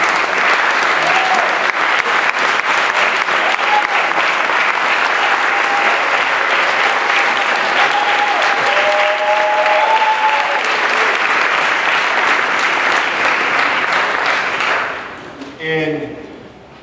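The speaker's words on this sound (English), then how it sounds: "Let's give them a rousing round of applause" Sustained audience applause at an evening symposium honoring the Tougaloo Nine, steady and dense clapping from a large crowd for about fifteen seconds before tapering off at the end.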